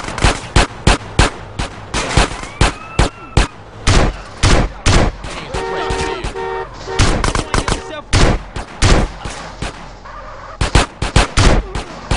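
Rapid bursts of gunfire from Grand Theft Auto San Andreas, in a gang shootout where members of the same gang turn on each other, ring out as loud repeated sharp shots, some in quick strings, with brief lulls between volleys.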